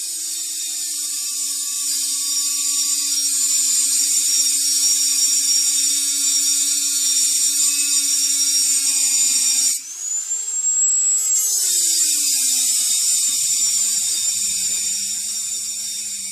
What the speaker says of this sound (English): I'm just using the Dremel and slowly cutting around